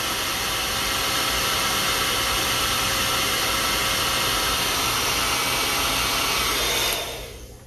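A hair dryer blows a steady, loud stream of cold air onto eyelashes for about seven seconds, then cuts off abruptly and the rush fades away.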